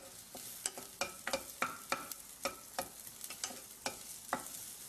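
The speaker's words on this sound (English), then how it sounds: "Garlic. Yeah, they're all starting to sizzle nicely." Garlic sizzles in two pots on a stove, a soft steady fry broken by a dozen or so sharp scraping stirs at an uneven rhythm, close and fairly quiet, with no talking.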